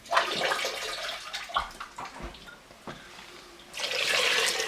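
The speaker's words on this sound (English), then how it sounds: "so we're going to add 2 more cups of water in here." Water and homemade chicken stock are poured into a soup pot for Thai chicken soup, a splashing, gurgling stream in short bursts that ends in a steadier, louder pour.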